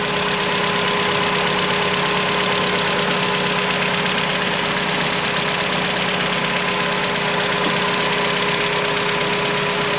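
A 1992 Mazda Miata's 1.6-liter dual-overhead-cam inline-4 idles steadily and loudly up close, a constant even hum with a faint ticking texture running unbroken throughout, no voices.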